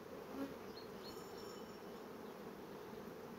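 Honeybees buzz softly and steadily around an opened hive during a beekeeper's inspection, a faint continuous hum with a few individual bees flying close.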